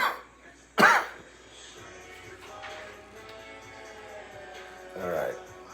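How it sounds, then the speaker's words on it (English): A person lets out one sharp, loud cough, followed by quieter throat-clearing and a softer cough near the end amid low room noise. "I'm gonna quit with the coughing"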